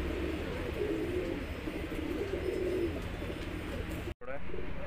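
Saharanpuri cross pigeons coo in low, rolling murmurs close by at a pigeon loft, with some background noise and a brief dropout near the end.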